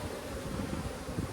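Honey bees buzz steadily on a hive frame from a package colony repairing comb, a low continuous drone close by and fairly quiet, with no talking.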